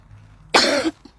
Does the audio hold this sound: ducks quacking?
no